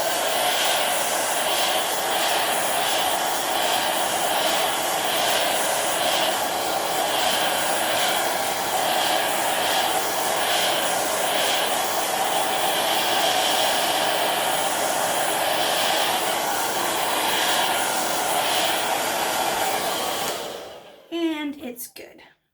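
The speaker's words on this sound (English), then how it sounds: "I'm just going to use a hair dryer on a warm setting for just a few seconds to get it dry." A hair dryer runs on a warm setting for about twenty seconds, a loud, steady whooshing drone held close and unbroken before it switches off, with a short voice right after.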